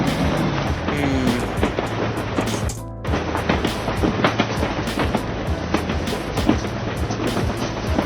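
A train rumbles along the rails with a steady, dense roar and rhythmic clatter, broken by a brief dip before continuing, loud and continuous without talk.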